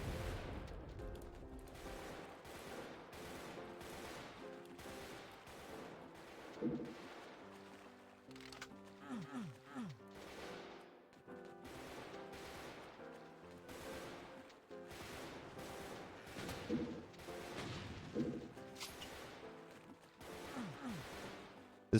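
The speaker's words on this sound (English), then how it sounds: "They're still shooting each other." Enemies trade gunfire in a sewer level of Doom with the Brutal mod, with rapid bursts of shots repeating through the whole stretch at low volume, mixed with mechanical game sounds and no talking.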